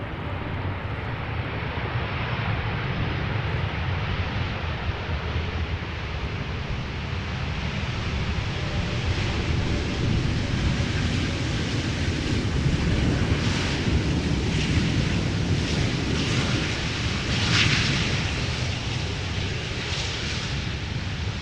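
A Turkish Airlines airliner arriving at Amsterdam Schiphol, heard as a broad steady jet roar with wind-like rumble that swells slightly toward the end, fairly distant and without reverse thrust.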